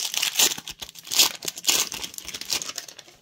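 A foil booster pack wrapper for a Magic: The Gathering set with Jurassic Park cards is torn and crinkled open in close, bright bursts of crackling and rustling, with no talking.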